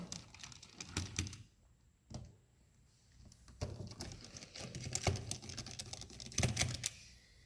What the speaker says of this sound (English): Unscrew the 4 screws, holding the plastic cover down.